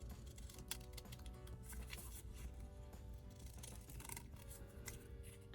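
Scissors snip steadily through paper, cutting out a ghost tag shape for a Halloween ghost tassel banner, heard close and fairly quiet with continuous crisp snipping and rustling, no talk.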